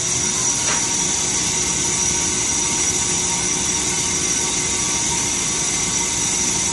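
A university building's air handler fan blows a steady, loud, broadband roar of rushing air that holds constant and unbroken throughout.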